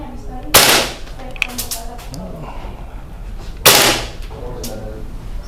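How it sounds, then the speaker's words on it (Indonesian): Two sharp, loud airsoft gun shots fired a few seconds apart through a chronograph to measure FPS, each a close crack with a short decay, and soft handling noise between them. "Nah, udah siap nembak nih. Kita lihat berapa FPS-nya."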